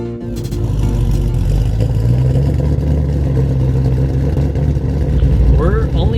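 A modified, no-longer-stock 900 hp Ford Mustang GT500 pulls away with a steady, heavy engine drone, and people talk inside the car over the engine.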